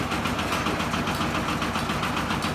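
A dump truck engine idling nearby, a loud, steady, rough low rumble with an even pulsing beat and nothing else audible.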